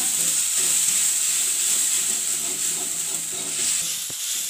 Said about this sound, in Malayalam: ഇങ്ങനെ വഴണ്ടുകൊണ്ടിരിക്കുകയാണ്